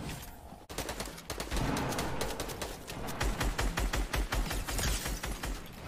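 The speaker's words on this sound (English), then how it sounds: "I'm shooting him down." Rapid gunfire from a Fortnite Chapter 2 Season 8 battle, a dense stream of sharp shots that starts abruptly after a brief pause and keeps up in quick bursts for several seconds.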